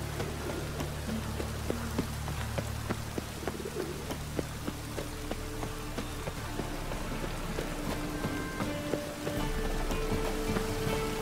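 Steady rain in The Witcher 3 patters across a surface with scattered drips and ticks, while birds coo softly in the background throughout.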